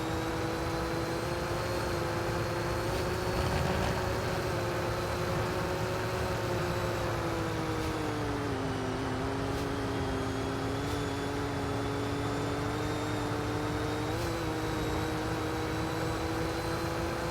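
A virtual car engine in the Roblox game Car Crushers 2 drones at a steady high rev through a racing course, its pitch dipping slightly midway and holding constant and loud throughout, with no talk.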